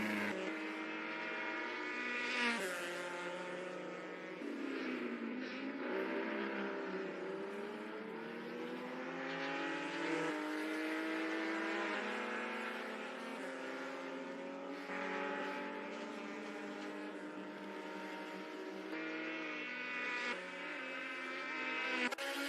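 Race car engines roar in the NZ SuperLap virtual racing video game, including a 510, a continuous high whining drone whose pitch climbs and drops through gear changes as cars accelerate and brake over a long stretch.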